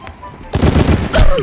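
Rapid burst of automatic gunfire in the online shooter Crisis Action, loud and close, with several quick shots in a row followed by a second sharp burst.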